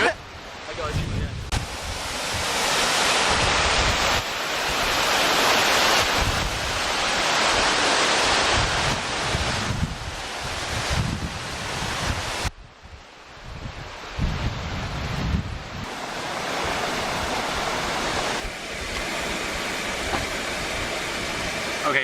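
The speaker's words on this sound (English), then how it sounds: "Waterfall." Waterfall in snowy Iceland during a snowstorm, a steady loud roar of falling water mixed with heavy wind buffeting the microphone, with no clear talk.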